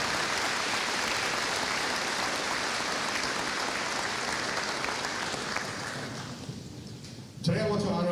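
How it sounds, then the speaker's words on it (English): Sustained, dense applause from a large audience at a high school graduation ceremony, steady for several seconds before fading out, then a voice begins speaking over a quieter room. "Give a round of applause."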